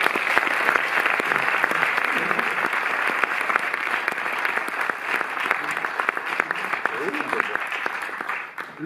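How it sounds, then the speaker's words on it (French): Sustained applause from a sizable audience at the Cinémathèque in Paris, steady and full throughout with no letup. "Laurent Edman, que vous pouvez applaudir."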